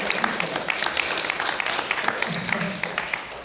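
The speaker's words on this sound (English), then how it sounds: "can we have a round of applause for Professor Dr. Ada?" A crowd at a women's working group event at the UN claps for Professor Dr. Ada, a steady wash of applause lasting a few seconds at moderate loudness.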